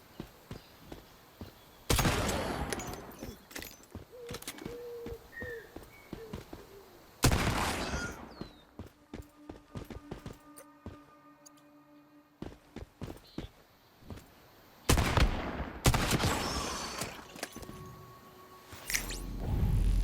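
Revolver shots in the survival game Once Human, a few loud isolated bangs spaced several seconds apart among quieter footsteps and scuffling, with no talking.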